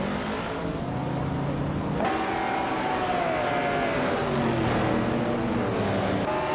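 A classic 1986 BMW M3 races in a video game, its engine loud and close, revving with rising and falling pitch sweeps and gear shifts throughout.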